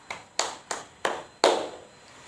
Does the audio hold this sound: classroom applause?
yes